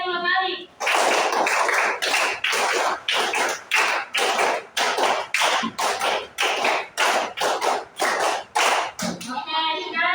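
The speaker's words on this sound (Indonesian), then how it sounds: "Tepuk 5 kali." A class of pupils clapping hands together in a clapping game, a steady run of about twenty sharp group claps in bursts, loud and close, with brief voices at the start and end.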